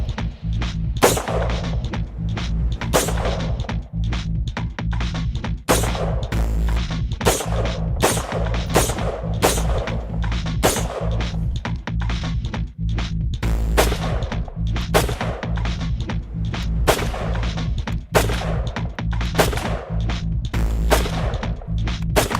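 Rapid gunfire from a 3D printed gun, a long steady string of close, loud sharp shots, tightly spaced and continuous with only brief gaps, over a constant low hum.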